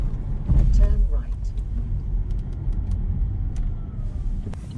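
An Opel Mokka-e electric car merges onto a quicker road, giving a steady low tyre and road rumble that swells near the start and then holds, with a brief murmur of voice early on.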